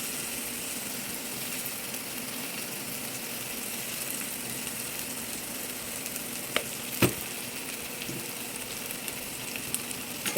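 Chili powder being stirred into a frying mixture in a pan while cooking chinta chigaru with chana dal, with a steady close sizzle and a few sharp scrapes and clicks of the spoon against the pan.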